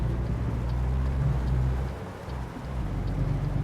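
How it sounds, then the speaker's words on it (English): Heavy thunderstorm rain in a truck driving game pours steadily under a deep rumble of thunder and engine drone, dipping briefly before swelling again with no talk. "Now we've got thunderstorms."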